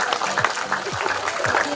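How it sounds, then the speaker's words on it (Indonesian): Audience at a public health launch event in Indonesia applauding, a crowd clapping steadily under a voice speaking over the top. "tepuk tangan."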